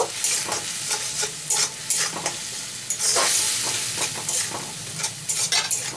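Chili powder is stirred into bitter gourd frying in a pan: a bright, hissing sizzle broken by quick, repeated scraping strokes of a spoon, close and steady.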